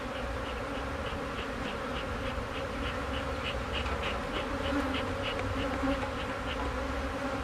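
A thick, constant drone of honeybees buzzing close up as smoke drives them down into the bottom box of the hive, steady throughout with no voices.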